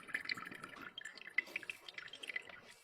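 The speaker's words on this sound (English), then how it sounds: "I'll just pour it through some coffee filters" Liquid from a chemistry experiment, cloudy with undissolved cornstarch, drips and trickles through coffee filters in a quiet run of small, irregular droplet ticks, faint and close, with no voices.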